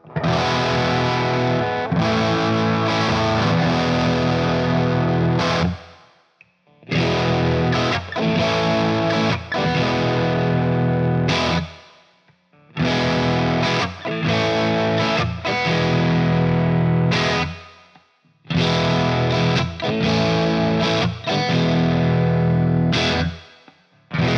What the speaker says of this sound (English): I think it's a Vox-esque sound